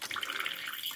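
Water pours into a small bowl at an animal-breeding setup, a steady close trickle and splash lasting about a second with no talk over it.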